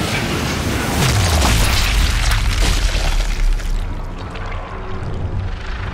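A sniper rifle shot in the video game Sniper Elite 5 lands as a heavy, booming blast amid loud continuous game noise, its low rumble rolling on for a few seconds before thinning out, with no talk over it.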